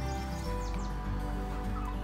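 Chickens clucking and calling in a crowded coop, several birds close by with overlapping squawks over a dense, steady background of flock noise.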